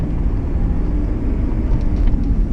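A 1995 BMW Alpina 530i rumbles loudly as it downshifts while being driven, a close, deep and continuous engine drone from inside the car.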